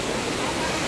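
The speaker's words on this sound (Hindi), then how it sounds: "देखा पानी ऐसे नीचे बहत है, बहुत ही सुंदर झरना हरे यह सिंदूर खोल" Sindurkhol waterfall in a Chhattisgarh forest near Gariyaband, water pouring down in a steady, dense, close roar of broadband rushing noise with no voices.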